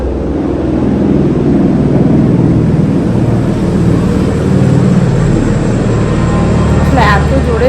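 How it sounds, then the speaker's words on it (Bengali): A helicopter passing overhead, giving a loud, steady rumbling drone that holds throughout, with a brief higher chirp near the end. "হেলিকপ্টার যাচ্ছে।"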